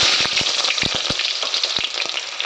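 Onion and four cardamom pods frying in hot oil for khichdi, a bright dense sizzle filling the whole stretch, punctuated by sharp spatter pops and spoon knocks, loud and close with no talk.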